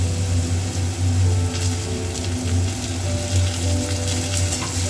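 Spice paste sizzling in hot oil in a pan while cooking a chicken dish with yogurt, capsicum and black pepper, a loud continuous close-up crackle and hiss with a low steady hum beneath and no talk.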